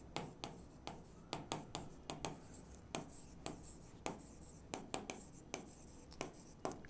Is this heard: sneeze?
no